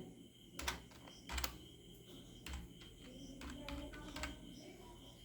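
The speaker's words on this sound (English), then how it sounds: "then click the tab key, automatically go to the next position" Several isolated key presses on a computer keyboard, the Tab key among them, tapped one at a time in a quiet room with faint low hum.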